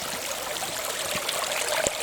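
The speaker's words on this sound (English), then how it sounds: "It's a flipping torrent, absolute torrent here." Rainwater rushing down a street in a heavy downpour, a continuous broad splashing torrent close by with small spouts and a few sharper splashes near the end, steady and fairly loud with no talking.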